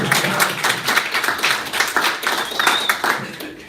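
An audience claps steadily, many hands making dense rapid applause throughout, fairly loud and close.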